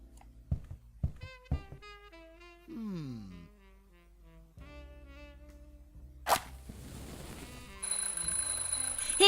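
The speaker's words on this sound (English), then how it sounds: "I'm, just testing the smoke detector." A smoke detector in The Journey Down Chapter 2 adventure game sounds a thin, high-pitched electronic alarm tone near the end, steady and piercing, coming in after a stretch of melodic game music and a brief burst of noise.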